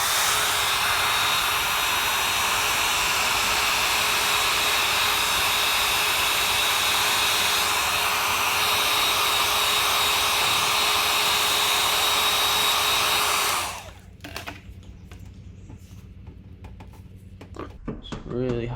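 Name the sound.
heating a car emblem to remove it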